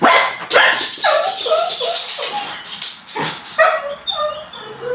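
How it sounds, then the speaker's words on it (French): A male chihuahua and a Cavalier King Charles spaniel bark outside in a rapid, agitated series of sharp, high yips and barks, loud and close, with a few whimpering notes and brief pauses between bursts. "Alors là, c'est un des chiens qui aboie tout le temps"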